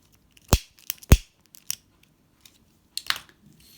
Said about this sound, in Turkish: Hemen bir zincir çekip ipimi kesiyorum.